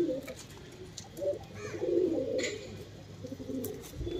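Soft pigeon coos repeat through the clip, low and rounded, with faint rustling and no talking.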